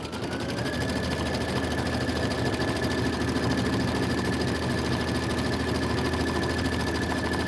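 A sewing machine runs steadily while stitching an autumn banner with leaves and pumpkins, a continuous fast mechanical buzz close up, unbroken for the whole stretch.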